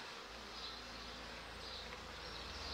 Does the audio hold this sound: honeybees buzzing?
yes